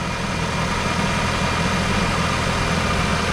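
A 1.3-litre petrol Ford Fiesta engine idles steadily at close range, a constant even hum with a low vibrating drone and no gaps or revving, the car's cooling system being refilled after a thermostat replacement for overheating.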